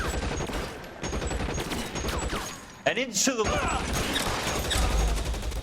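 Gunfire in the L.A. Noire video game, a rapid burst of shots and mechanical clatter over dense game noise, with someone speaking briefly.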